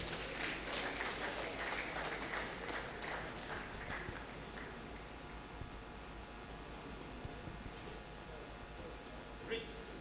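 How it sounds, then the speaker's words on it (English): Audience applause at a trade fair closing ceremony, a broad distant patter of clapping that is strongest at the start and thins into a faint crowd hiss over ten seconds. "a round of applause."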